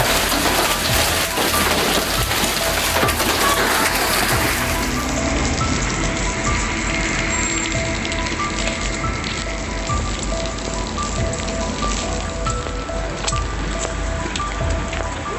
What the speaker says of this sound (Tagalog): nauwi sa pag-ulan na naglalaki ang tipak ng yelo na nagpabasag sa mga salamin ng kotse